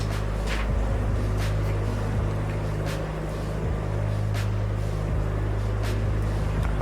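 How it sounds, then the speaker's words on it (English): A steady, loud engine drone with a deep low rumble holds throughout without a break, with faint passing noises and brief higher bursts drifting over the top and no talking. "I hope you're enjoying all this lovely engine noise in stereo."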